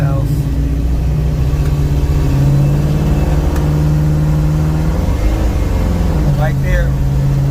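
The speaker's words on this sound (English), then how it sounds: "that was the transmission slipping when it was changing gears" A station wagon's engine drones loudly while its transmission slips during a gear change, the pitch wavering and surging under passing talk from people in the car.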